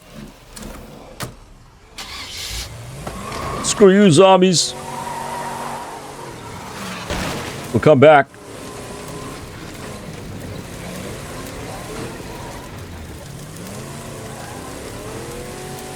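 A car in the zombie video game State of Decay 2 starts up and drives off, its engine revving loudly in two surges over a steady rumble, with someone talking over it.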